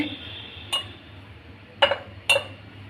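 Glass bottle container handled in a kitchen while chutney powder is prepared, giving three sharp clinks, one early and two close together near the end, over a quiet background.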